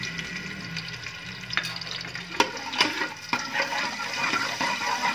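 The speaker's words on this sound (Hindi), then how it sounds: "सबसे पहले लहसुन अदरक की पेस्ट फ्राई करेंगे।" Garlic and ginger paste fries in hot oil in a pot for a shahi chicken dish, a steady soft sizzle with a few stirring scrapes and clinks, close by and without talk.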